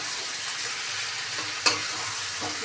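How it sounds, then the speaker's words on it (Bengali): Onions with salt and turmeric fry in a pan under steady stirring, a soft continuous sizzle punctuated by one sharp utensil clack and a few lighter scrapes. "এবার চলো এগুলো পেঁয়াজ সব ভালোভাবে ভাজা হোক।"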